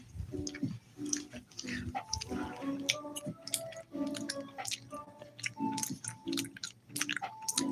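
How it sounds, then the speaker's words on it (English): Gum chewed loudly right at the microphone, with irregular wet smacks, squishes and clicks in quick bursts, while faint tonal background sounds run underneath. "I'm busy like chewing loudly on my gum"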